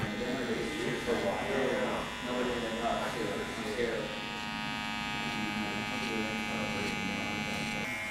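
Electric hair clippers buzz steadily and close up, run clipper-over-comb to trim the bulk of a long beard and edge up the neck, a continuous drone with shifting tone as the blades move through hair.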